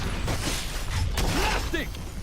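Clicks and mechanical clacks from a weapon being reloaded in the shooter game Valorant, set against busy in-game noise with voices and callouts.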